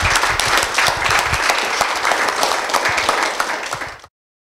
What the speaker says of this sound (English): give our author and our panelists a big round of